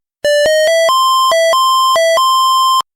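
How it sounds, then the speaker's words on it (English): The AUSION device plays its power-on tune, a loud, clean electronic melody of about a dozen short stepped tones stretching across nearly three seconds, heard alone. "press the main button until you hear this tune"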